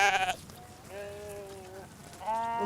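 Ewes grazing a coastal salt meadow and dunes bleat in several drawn-out calls, close and clear, with one loud bleat at the start and more following, alone without talk.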